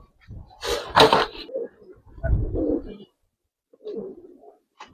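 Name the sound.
Gribaz racer pigeons cooing in a loft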